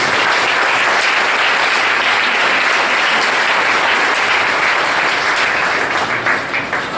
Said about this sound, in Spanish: Den un aplauso a Jesucristo.